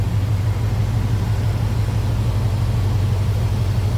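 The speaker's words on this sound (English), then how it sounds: "That'd be the 305 Vortec V8 power." A 1998 GMC Sierra 1500 with a 305 Vortec V8 idles nearby, a smooth, even low-pitched rumble holding steady throughout with no voices.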